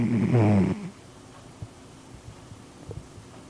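A cat snores faintly and close, with a louder voiced burst at the start giving way to quiet, low rhythmic snuffling breaths.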